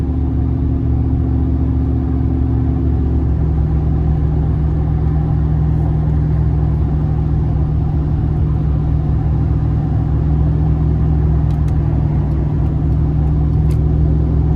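Steady low V8 rumble from a 2004 Chevrolet Silverado single cab with a 4.8 liter engine, aftermarket exhaust and intake, droning continuously and close throughout a drive with no talking.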